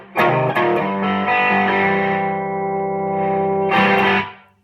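Electric guitar played through a Lovepedal Super Sic Tone fuzz pedal, a couple of picked notes then a long sustained distorted chord ringing out, followed by another strummed chord that cuts off.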